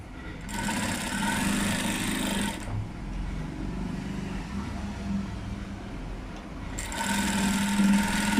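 A sewing machine stitches along a fully folded blouse piece in two close, steady whirring bursts, with a quiet pause between them.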